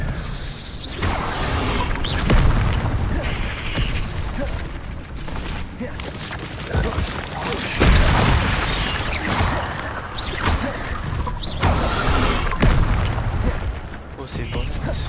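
Expelliarmus disarming spell cast during a duel in Hogwarts Legacy, a dense game soundtrack of booming magical blasts, whooshes and crashes that swells repeatedly over about fifteen seconds, loud and continuous with no pause.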